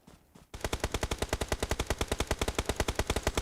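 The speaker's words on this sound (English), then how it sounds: "Kindness hits him with the nice headshots" Rapid automatic gunfire in PUBG Mobile during an esports match, a loud, fast, evenly spaced burst of shots lasting several seconds after a brief quiet start.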